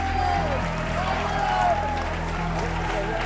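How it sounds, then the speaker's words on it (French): A speed skating crowd cheers the skaters during a race, a continuous wash of applause and shouts under a commentator's voice, with a low steady hum throughout. "Et nous entendons la foule encourager les patineurs."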